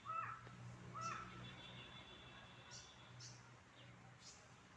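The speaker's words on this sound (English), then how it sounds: "Crow and prey bird both are in panic." Crows cawing in a few short, distant calls over steady background noise, while small birds attack a larger bird of prey.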